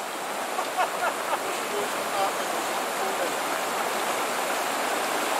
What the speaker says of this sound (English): here's the treacherous river crossing